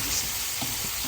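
Salted shrimp paste sautés in a pan, a brief, steady hiss and sizzle heard up close without any talking.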